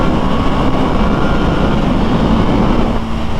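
A KTM Duke 890R motorcycle engine pulls hard under throttle, a loud, continuous low roar mixed with heavy wind rush that holds steady throughout, with no voices.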